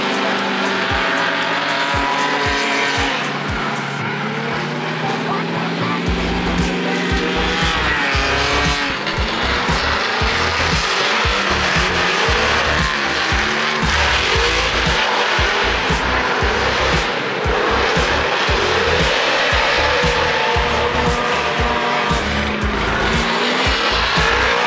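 A Mazda RX-8 drifting at full throttle, its rotary engine screaming loud and close with continuous tire squeal and skidding, rising and falling through slides without any talk.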